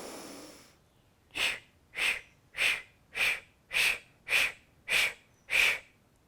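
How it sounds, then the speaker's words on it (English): Eight short, even breath strokes puff out through an O-shaped mouth during Kundalini breathing, a quiet inhale leading into a steady rhythmic series of close, airy exhales with no talk. "we'll exhale in 8 equal strokes out through an O-shaped mouth"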